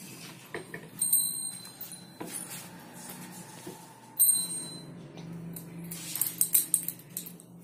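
A small hand bell rung during a morning puja at home, heard as a few bright, ringing strikes in short bursts, separated by quieter household sounds.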